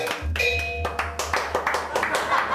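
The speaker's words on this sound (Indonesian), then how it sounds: "Tepuk tangan kenapa coba?" A group claps hands at an Indonesian neighborhood gathering, a burst of sharp, fairly loud claps in an uneven rhythm, heard close, with a low steady hum underneath.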